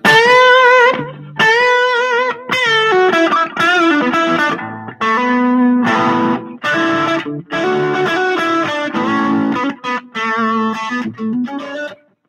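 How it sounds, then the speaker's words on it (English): Distorted electric guitar playing blues lines, phrases of bent and sustained notes with short gaps between them, loud and close, with no talking over it. "Let me put a little distortion on this, like this."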